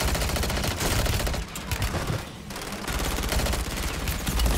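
Rapid video game gunfire crackles in dense automatic bursts, briefly easing in the middle before resuming loud and continuous.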